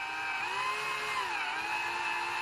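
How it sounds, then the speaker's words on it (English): A small power drill whirs steadily and continuously at close range, drilling into an HP 920XL ink cartridge, its high-pitched motor tone wavering slightly as it works. "put the drill on top and just very gently"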